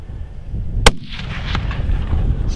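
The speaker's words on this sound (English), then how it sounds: "No, good shot, John." A single sharp, loud rifle shot from a mountain hunt for Pyrenean chamois in Spain cracks close by, followed by a rolling echo off the slopes and steady wind noise, with no talk.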